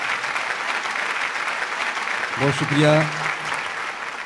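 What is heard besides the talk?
audience applause at a mushaira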